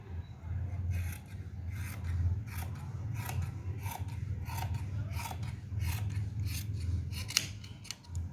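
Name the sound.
scissors cutting cloth for a shalwar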